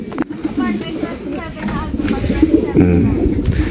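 Racing pigeons coo repeatedly at a training release in Tiong, Quezon, while people talk over a busy background noise.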